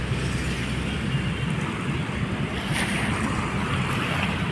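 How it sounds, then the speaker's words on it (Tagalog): Strong waves wash continuously along the shore of Manila Bay's dolomite beach, a dense, loud roar of surf mixed with wind buffeting the microphone, with no talking. "Malakas ang alon dito sa gilid"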